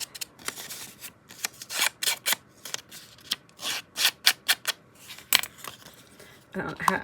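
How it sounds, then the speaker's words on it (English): Scissors blades scraping and rubbing across paper to rough up its surface, a run of short, uneven scratchy strokes close by with brief pauses between them. "that's why I use my scissors"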